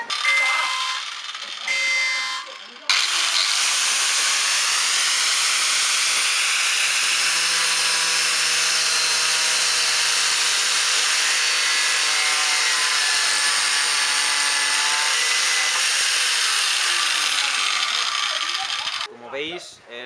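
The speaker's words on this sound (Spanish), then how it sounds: "Es un corte limpio, que es lo bueno de cortar con radial" An angle grinder cuts through a kayak paddle with a sustained high whine lasting most of the stretch, close and loud, with brief handling noises before and after.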